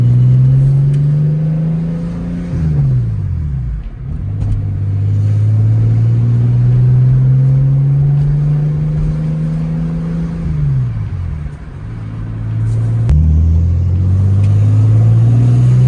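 A turbocharged BMW E46 with a welded differential drives under load, its engine note loud and close as it climbs steadily through the revs, drops sharply at each gear change and climbs again.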